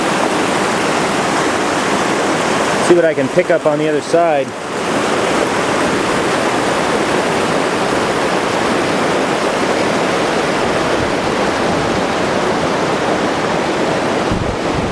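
Horse Creek in the Sierra rushes steadily and loudly throughout, with someone speaking briefly over it early on.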